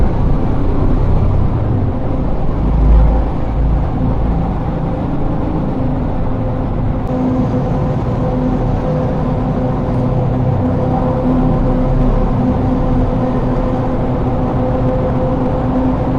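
A steady, loud low-pitched roar and hum from large ventilation fans fills a road tunnel in Kashmir without pause.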